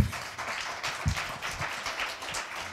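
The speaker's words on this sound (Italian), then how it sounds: "Questo applauso spontaneo ci riempie di gioia." Spontaneous applause from the audience at a press conference for a film festival award presentation, a dense, steady wash of many hands clapping close by with no pauses.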